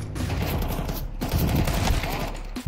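Counter-Strike gunfire, dense overlapping rapid shots forming a continuous fusillade for a few seconds with faint game ambience.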